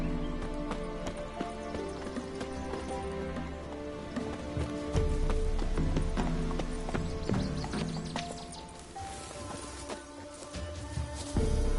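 Horse hooves gallop in a steady clip-clop rhythm from The Witcher 3: Wild Hunt, close and continuous under rain-like patter and game ambience.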